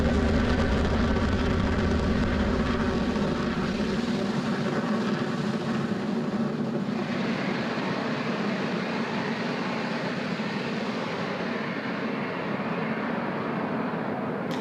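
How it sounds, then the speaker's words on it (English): A SpaceX Falcon 9 rocket lifts off from Space Launch Complex 40 at Cape Canaveral Space Force Station. Its engines give a continuous, distant, crackling roar, heavy with deep rumble at first, then thinning to a broad hiss as it climbs away. "Falcon 9 has successfully lifted off from Space Launch Complex 40 at Cape Canaveral Space Force Station"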